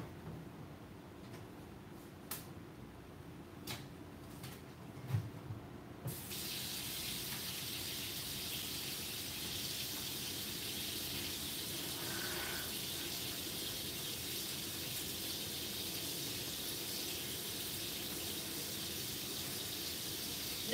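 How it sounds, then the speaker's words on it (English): Tap water runs steadily into a kitchen sink while asparagus is rinsed, a continuous broadband gush that starts after a few quiet seconds with faint clicks and handling noises and then holds evenly to the end. "Oh, I should wash this first. Let me wash it."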